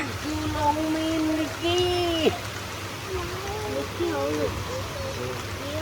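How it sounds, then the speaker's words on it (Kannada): Heavy rain falls at a resort in a constant hiss beneath nearby voices of people talking over it. "ಮಳೆ ಬಂದ್ಬಿಡ್ತು ಅದು ಫುಲ್ಲು ಮಳೆ"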